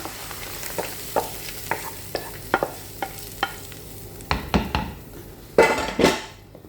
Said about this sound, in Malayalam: സ്പീനാച്ച് ഇതിലോട്ട് നമുക്കങ്ങോട്ട് ഒഴിച്ചു കൊടുക്കാം